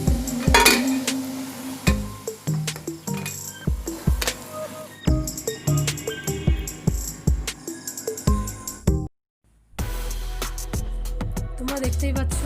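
Metal utensils clink and tap against a frying pan as fried noodle pakoras are lifted out one by one, sharp scattered knocks in an irregular rhythm, with a brief silent gap near the end.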